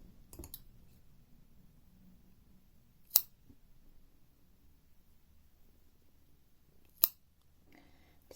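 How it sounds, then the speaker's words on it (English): Scissors snip yarn tails on a crochet mistletoe decoration, two crisp, isolated close-up cuts a few seconds apart against near silence, with faint handling rustle at the start. "Snip those tails off"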